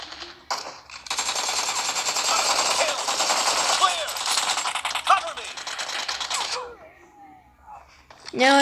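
An AK-47 fires in a video game match in a loud, sustained automatic burst lasting several seconds, then trails off into scattered clinks and shell-like rattles, with speech faintly present.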